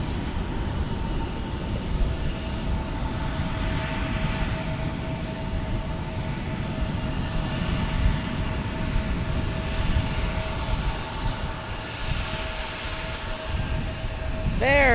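An Alaska Airlines airliner from Portland, Oregon, at San Diego airport gives off a moderate steady engine rumble with a thin tonal whine, while voices talk over it throughout.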